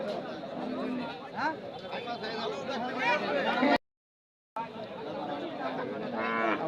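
Cattle at a Bamundi market in Pabna, medium-sized Shawal-breed bulls, with low moos and animal noise mixed into steady crowd chatter and nearby voices throughout, broken by a brief silent gap.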